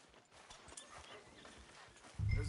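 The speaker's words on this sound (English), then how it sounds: "Tether the horse and I'll meet you across the street." Horse hooves in Red Dead Redemption 2 clop at a steady walking pace on a town street, faint and fairly close, and a louder thump comes at the end.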